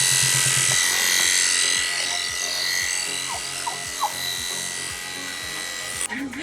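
Electric clippers shearing wool from a male sheep, a steady buzzing drone running throughout, close and continuous, with small rustles and shifts as the animal is handled.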